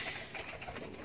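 Soft, murmuring coos of caged breeding pigeons blend together in a steady low burble, with faint rustling in the background.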